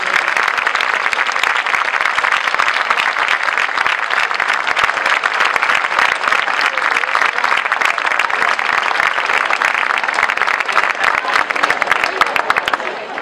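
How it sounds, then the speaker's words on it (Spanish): Loud, sustained applause from a large crowd at an outdoor town-square music festival, dense clapping continuing steadily throughout without pause. "Un fuerte aplauso para ellos."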